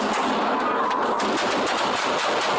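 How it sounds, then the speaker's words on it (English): Rapid, continuous gunfire from a video game, a dense automatic burst that stays loud and steady with no break and no voices. "Gunshot fired."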